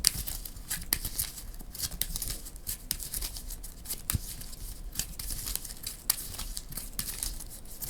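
Playing cards for the Marvel Champions card game being shuffled into a deck: rapid, close crisp riffling and flicking with scattered sharp snaps, continuous and fairly quiet, with no voices.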